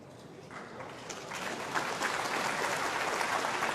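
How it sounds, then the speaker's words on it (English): Brief, polite applause from a snooker crowd at the 1999 final between Ronnie O'Sullivan and Ken Wilson, a soft patter that swells gently and holds steady for a few seconds at moderate distance. "you felt when you heard that little bit of applause"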